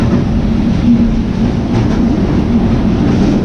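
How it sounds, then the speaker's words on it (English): A steady, loud roar of a sleeper train rushing through a tunnel in Vietnam between Hue and Saigon, with a dense continuous rumble and faint rhythmic clatter throughout. "Oh, going through a tunnel."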